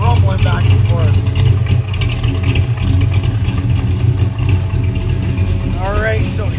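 A 1972 Chevrolet Nova with a 454 big block and automatic transmission rumbles steadily from its exhaust. The low, continuous idle holds throughout, with a voice talking over it.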